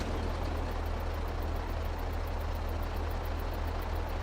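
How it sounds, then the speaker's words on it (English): A truck engine idles steadily in Farming Simulator 22, a constant low rumble close and alone, with no clear start-up crank. "let's get in this truck and get it started"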